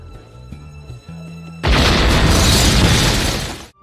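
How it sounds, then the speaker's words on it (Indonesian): A room blown apart by a bomb in an action film starring Jackie Chan: after quiet tonal music, a sudden loud blast with a deep boom and shattering debris roars for about two seconds, then dies away. "wanita itu masuk ke dalam ruangan Carter dan meledakkan ruangan tersebut."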